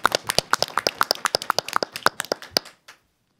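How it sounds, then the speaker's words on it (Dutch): Audience applause at a Dutch civic event celebrating a city, a small crowd clapping in distinct sharp claps for nearly three seconds before stopping abruptly, then silence. "Ik zeg nu alvast een applaus."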